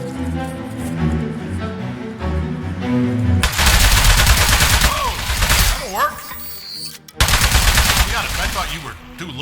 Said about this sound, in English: shoot the turret at him.